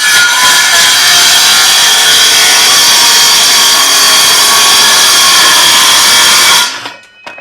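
Power saw cutting steadily through a hickory board being made into cabinet doors, a loud continuous rasping whine lasting about six and a half seconds before stopping abruptly.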